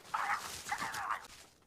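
A small dog in an animated railroad film gives two rising yips with whimpering, fairly faint and alone, with no talk over it.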